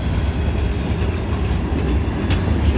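A CSX freight train's box cars, including a freshly painted one, roll steadily past close by with a continuous loud low rumble and faint rail clatter, no voices.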